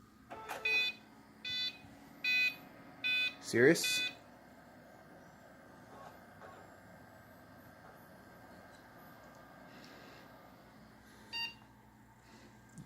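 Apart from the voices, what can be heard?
computer startup error beeps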